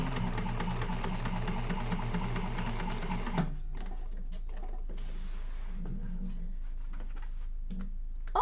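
A sewing machine stitches a second line along a bag seam with a fast, even mechanical whir for about three seconds, then stops, leaving faint handling noises.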